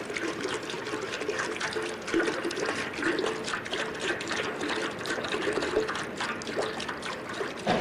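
A jet of water is forced from a pipe in a self-priming fountain and falls back into another pipe, making a steady, soft splashing trickle that stays faint and continuous with no talk.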